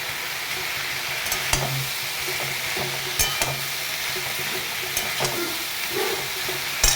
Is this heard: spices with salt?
yes